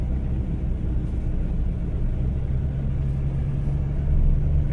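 A car with incorrect fuel pressure struggles along the road, heard as a dull, steady low rumble from close by, barely rising when the throttle is touched.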